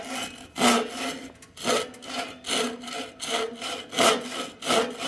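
A hand saw cuts along a marked line in wood while fitting boat chines, its teeth kept in the kerf. About eight rhythmic rasping push-pull strokes sound close and fairly quiet, with no talking.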